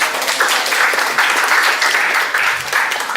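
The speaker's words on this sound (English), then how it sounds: "So can we please give them a round of applause?" Steady audience applause fills the room at a live album listening party for an Afro-fusion duo's debut record, a dense, even wash of many hands clapping throughout with no break.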